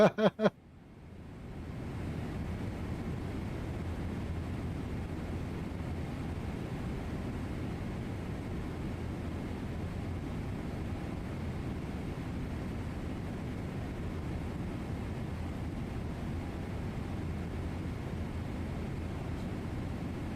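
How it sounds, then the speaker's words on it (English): A Boeing 777 flyby in a flight simulator game: a steady, loud, broadband jet roar that holds evenly for about twenty seconds after a few brief clicks at the start. "There's the flyby."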